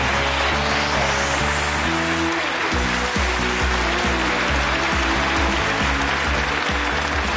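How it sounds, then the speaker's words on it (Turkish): A studio audience applauding on a Turkish game show, dense steady clapping that fills the whole stretch at full loudness, with a low tonal music bed underneath. "Kocaman alkışlar Yılmaz Bey'e."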